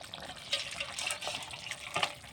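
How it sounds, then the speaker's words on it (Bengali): Poultry and egg curry pours from a cooking pot into a bowl, a faint wet, sloshing trickle with small splashes in quick succession. "এখন আমি গামলায় ঢেলে নেব"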